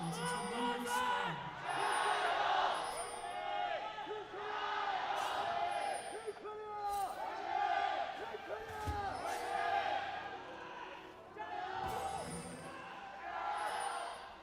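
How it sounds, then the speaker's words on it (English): Fans cheer loudly throughout the League of Legends final at the 2018 Asian Games, with whoops and shouts rising and falling in waves while commentators speak over the crowd. "Seems as though the cheering, the fans are running their voices as ragged as we are"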